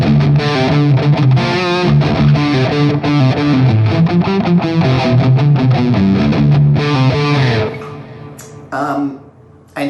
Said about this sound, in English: the main riff is obviously lots of distortion